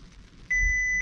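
A single steady electronic beep from a car held at a full stop before launch sounds for about half a second, clear and fairly close over a quiet cabin hum.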